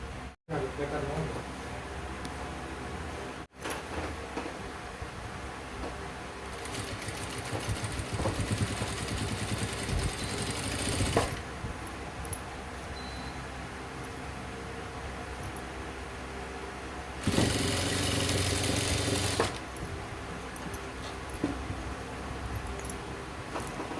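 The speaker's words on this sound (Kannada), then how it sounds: "ಈ ಲೈನಿಂಗ್ ಸಮೇತ ಫಸ್ಟು ಸೆಂಟ್ರಿಗೆ ಒಂದು ಹೊಲಿಗೆ ಹಾಕ್ತೀನಿ" A sewing machine stitches fabric with its lining for a small hand purse made from leftover cloth, humming steadily throughout under a person talking, with two louder bursts partway through.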